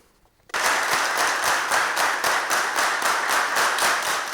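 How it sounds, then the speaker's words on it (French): After a brief quiet moment, a large crowd bursts into loud, sustained applause welcoming the President of the Republic to an accountability session, steady clapping continuing to the end. "Tonnerre d'applaudissements."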